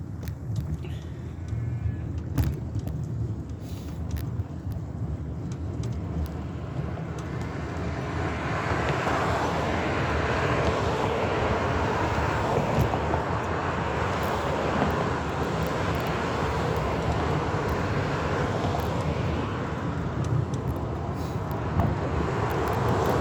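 Highway driving with steady traffic noise: a continuous broad roar from inside the moving vehicle, swelling louder partway through as speed builds and holding steady to the end, with no speech.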